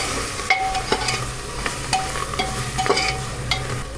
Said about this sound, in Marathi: हे सर्व परतून घ्यायचं